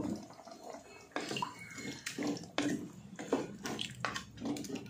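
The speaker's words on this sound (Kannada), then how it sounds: "ಮಿಕ್ಸರ್ ಜಾರಲ್ಲಿರೋಂಥ ಮಸಾಲೆ ಸ್ವಲ್ಪ ನೀರು ಹಾಕ್ತಾ ಇದ್ದೀನಿ" Water is poured into a mixer jar holding ground masala for a chicken gravy, a series of splashing pours and sloshes in quick bursts, close by and moderately loud, with no voices.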